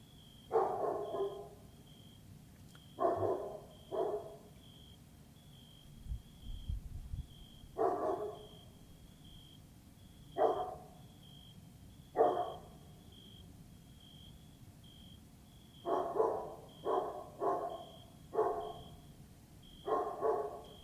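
A dog barks repeatedly in short bursts of one to several barks, with pauses between groups, moderately close in a quiet indoor room with a steady faint high tone in the background.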